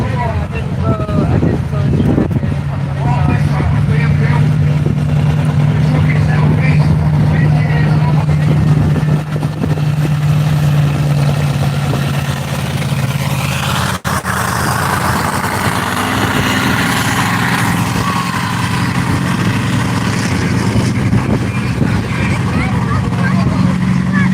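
A monster truck engine rumbles steadily at close range, a deep continuous roar that swells slightly, with no talking over it.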